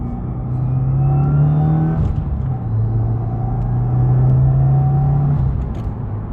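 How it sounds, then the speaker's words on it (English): A 2017 Subaru WRX with an Invidia R400 exhaust drones and rises in pitch as it accelerates in second gear, with a deep, throaty exhaust rumble and a brief shift partway through. "let's do a little second gear acceleration"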